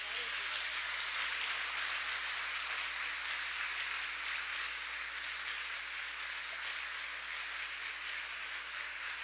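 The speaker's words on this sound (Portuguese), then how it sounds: "Aplauda Jesus" A church congregation applauds for Jesus during a worship service, producing a continuous, even roar of clapping with a low steady hum beneath it.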